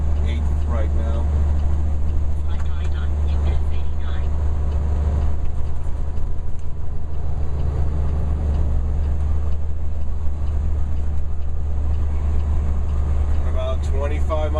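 A truck with a 13-speed transmission rumbles steadily from inside the cab with a constant low engine drone as it pulls from about 25 mph, while someone talks over it.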